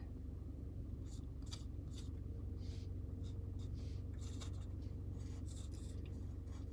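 A pen scratches out numbers on paper in short, close strokes with small pauses, over a constant low rumble in the background.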